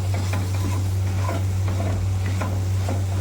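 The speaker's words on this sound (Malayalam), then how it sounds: "പാവയ്ക്കായിട്ട് ഒന്ന് ഇളക്കാം." Chopped bitter gourd stirred in a pan with a little oil, giving a steady sizzle with repeated scraping strokes of the spoon over a constant low hum, with no speech.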